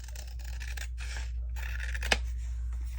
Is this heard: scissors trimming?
yes